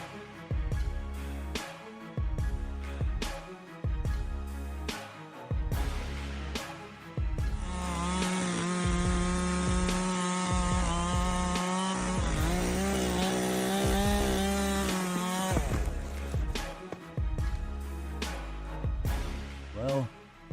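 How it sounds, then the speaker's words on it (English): A chainsaw revs and cuts into a tree high up in bursts, with a long sustained high-pitched whine in the middle before dropping back to choppy revving. "Using a chainsaw way up high is no joke."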